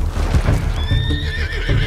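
A horse in Red Dead Redemption 2 lets out a loud, high, drawn-out whinny over the thud of hooves, close and clear with no talking.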